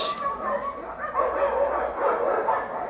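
Several dogs barking and yelping out on a residential street, excited overlapping barks at mid distance, set off by a nearby car alarm or horn.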